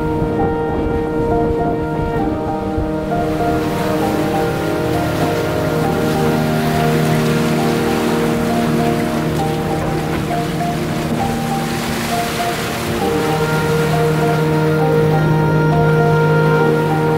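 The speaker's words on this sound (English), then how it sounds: "One massive wall of rain." Heavy rain sweeps over a sailboat on a downwind passage off French Polynesia, a dense hiss of drops under a steady tonal hum from the boat, loud and continuous throughout.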